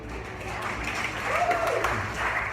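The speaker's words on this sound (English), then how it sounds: "I'm all right with the clapping, it's good." A church congregation claps in celebration during a baptism, a continuous moderately loud wash of applause with voices mingled in.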